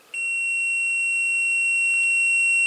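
A multimeter in continuity mode gives a single steady, loud electronic beep that holds unbroken for the whole stretch while its probes touch a wire during a Nintendo SNES console restoration.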